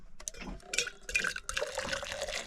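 Hot water from a kettle poured into a mug at a campsite beside a lake, a bright liquid filling sound that rises steadily over a couple of seconds, close and fairly quiet.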